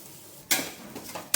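Coconut, garlic and coriander paste frying in oil in a pan, a quiet background then a sudden loud sizzle with stirring scrapes, another burst near the end.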